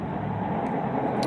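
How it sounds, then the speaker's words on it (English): Continuous outdoor traffic noise forms a broad steady roar with no distinct vehicles standing out, moderately loud and unbroken throughout. "if you hear noise in the background, it's traffic"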